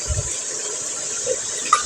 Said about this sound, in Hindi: ये मैं 2 भर के डाल दूँगी पानी के।